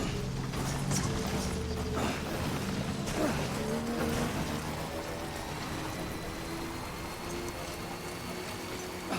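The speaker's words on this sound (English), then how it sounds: "Of course, it would be rain." Rain in the video game Death Stranding falls as a steady, moderate hiss of pouring water with a low rumbling background, continuing evenly throughout without any voices.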